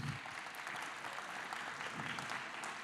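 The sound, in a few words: audience applause for the mayor of Blagnac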